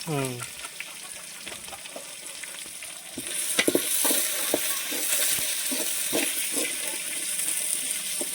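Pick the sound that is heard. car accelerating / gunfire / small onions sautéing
small onions sautéing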